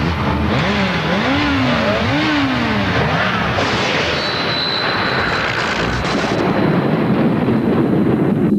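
A Volkswagen Polo Diesel engine in a 1996 French TV advert: a continuous, loud roar with rising and falling swooping tones, as if the car is accelerating past.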